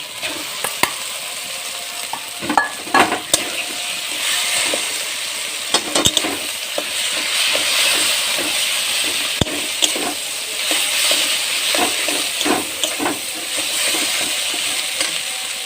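Potatoes fried and stirred in a pan for ghugni, a constant close sizzle punctuated by frequent scraping and clinking of a spatula against the pan, with no speech.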